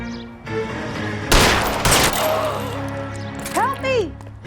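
Gunfire in the video game L.A. Noire Remastered: a sharp burst of shots followed by a second crack, close and loud, with characters' voices talking around the gunfire.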